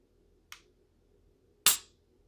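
A Springfield Armory Echelon 9mm pistol with a 4.5-inch match barrel gives two crisp, sharp dry-fire clicks about a second apart, a lighter trigger break followed by a louder reset snap, close and alone in a quiet room.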